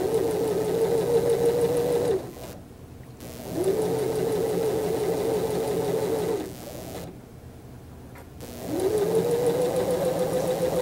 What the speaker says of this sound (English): So now you can see that I did an edge stitch on my facing.